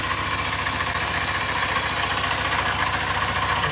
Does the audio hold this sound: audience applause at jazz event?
no